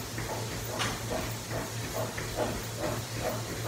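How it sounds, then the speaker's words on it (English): A steady hiss leaks from a pinhole in a goat milking line in a milking parlor, continuous and fairly faint over a low pump drone with rhythmic pulsing. "I would like to point out that hissing noise that you are hearing"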